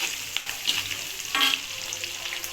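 Green chillies frying in hot oil for an egg curry, with a steady close sizzle and a spoon scraping and stirring the pan in short strokes, no voices.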